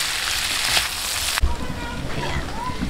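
Onions are dropped into frying pork sisig in a pan, bringing a sudden splash and then steady crackling sizzle close by.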